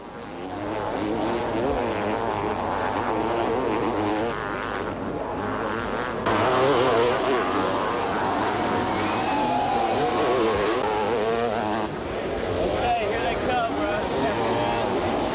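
Motocross bikes racing at a 1991 US motocross event, engines droning steadily with rising and falling revs as riders pass, under continuous commentary spoken in French.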